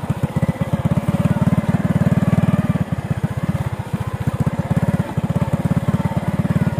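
A motorcycle engine revs in a rough, rapid pulsing throb, close and loud, with uneven surges and a brief dip midway.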